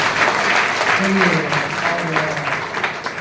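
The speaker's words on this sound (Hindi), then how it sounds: "एक जबरदस्त ताली हो जाएगी क्या?" Audience applause in a seminar hall on direct selling, a steady wash of clapping lasting throughout, with a voice speaking briefly over it.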